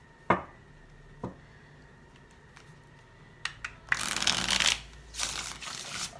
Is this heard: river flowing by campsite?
no